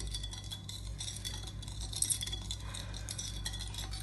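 A spoon stirs homemade wisteria flower syrup, giving soft, steady swishing with light clinks against the container, heard alone at close range.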